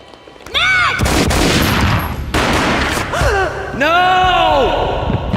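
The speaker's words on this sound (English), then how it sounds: "A gunshot boomed and she fell down in slow motion." Gunfire in the Max Payne video game: a loud burst of shots with a sharp crack, set among dramatic voices and gasps layered over the action.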